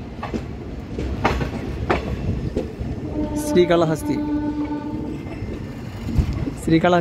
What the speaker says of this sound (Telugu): 1వ నెంబర్ ప్లాట్ఫామ్ నుంచి మన ట్రైన్ అయితే బయలుదేరిపోయింది